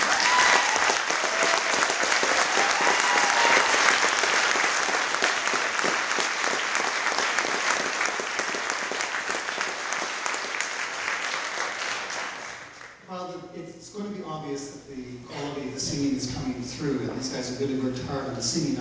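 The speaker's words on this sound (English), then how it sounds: "I think they need a really big round of applause." Audience applauding a choir after a winter song performance, a dense sustained wash of clapping that fades near the end as a voice begins speaking.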